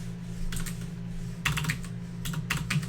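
Short bursts of keystrokes on a computer keyboard as a name is typed, quick clustered clicks close by over a low steady hum.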